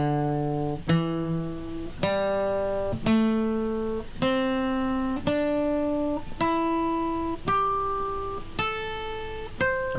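A guitar plays a minor pentatonic scale slowly and evenly. There are nine single notes, each plucked about a second apart and left ringing as the pitch climbs, played close and clean with no voices.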